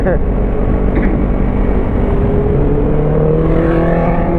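Kawasaki Z300 motorcycle ridden hard, its engine droning loud and close with a steady, strained tone that climbs slowly in pitch as it pulls.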